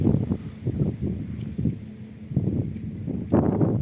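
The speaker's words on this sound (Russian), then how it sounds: "Такой ветер." Gusty wind buffets the microphone in repeated low bursts, rising and falling irregularly, loud and close, with no talking, cold wind by a river island near Yakutsk.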